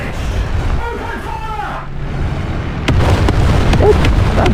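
A tank shell strikes a Panzer in War Thunder Mobile, with a sharp impact crack and then a second, smaller jolt over steady engine rumble and battlefield noise.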